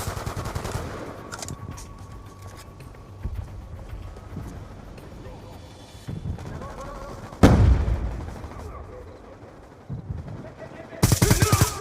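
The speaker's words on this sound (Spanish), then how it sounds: "Usando disparo explosivo." Explosive-round gunfire in a Spanish-language online shooter game, with bursts of shots and a loud blast near the middle, then a sharp rapid volley at the end over busy game background noise.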